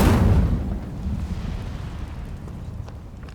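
Incendio fire spell cast in the video game Hogwarts Legacy, a single loud whooshing burst at the start that decays over a few seconds into a low rumble, with no talk.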